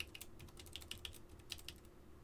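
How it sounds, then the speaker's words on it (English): Keystrokes on a computer keyboard while configuring a network router, a quiet irregular run of light clicks over a faint steady hum, with no voices. "once I type in the right password"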